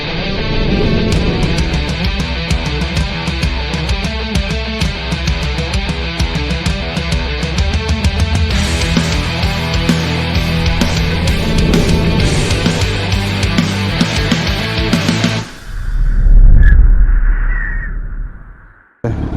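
A Yamaha R1 sport motorcycle engine runs loud and steady with a rough, throbbing tone for about fifteen seconds, then cuts off abruptly.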